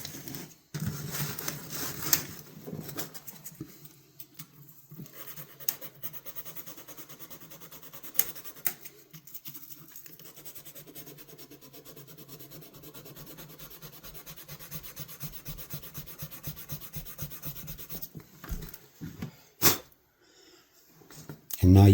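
Folded abrasive rubs back and forth along an old rusty Keen Kutter or Sabre knife blade, a close, gritty scraping in repeated strokes with brief pauses, and a person speaking at times.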